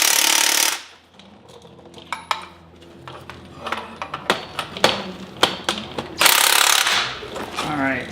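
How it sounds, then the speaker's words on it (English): A ratchet cranks down a spring compressor on a Porsche 987 strut in loud, uneven bursts of sharp clicking, framed by bursts of broadband noise at the start and the end. "just keep ratcheting down until you feel a top hat not have pressure on it"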